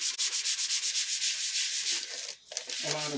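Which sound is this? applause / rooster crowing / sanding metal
sanding metal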